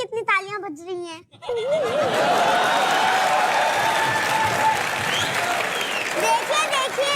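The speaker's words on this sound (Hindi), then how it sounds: "देख भी रहे हो मेरे लिए कितनी तालियां बज रही हैं।" Sustained applause from an audience, loud and dense for several seconds, following brief speech at the start with scattered voices and laughter mixed in.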